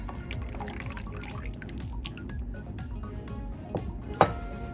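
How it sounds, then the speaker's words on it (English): Lemon filling poured into a pan on a stovetop at medium-low heat, with close, continuous liquid pouring and dripping and a sharper splash near the end. "So now we're going to pour in our lemon filling."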